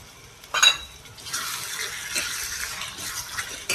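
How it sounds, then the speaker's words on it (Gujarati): Ridge gourd cooking in oil with turmeric and jaggery is stirred in a pan, with a sharp clink of utensil against metal followed by a soft, continuous sizzle and scraping close by. "સારી રીતે મિક્સ કરી લઈશું આપણે અને તુરિયાને તેલમાં આપણે ચડવા દઈશું"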